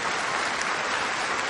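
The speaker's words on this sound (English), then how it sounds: "give our panelists a big round of applause for their time" Dense, steady applause from a crowd for panelists at a Diablo III panel, loud and continuous throughout.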